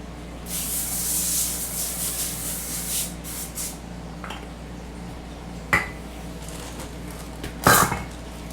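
A sustained hiss of aerosol cooking spray onto a sheet pan for a few seconds, close by, followed by a couple of light metallic clinks from the pan.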